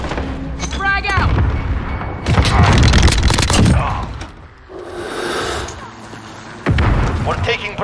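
A grenade blast in the Modern Warfare multiplayer game, a loud boom among bursts of gunfire and heavy battlefield noise, with shouted voices nearby.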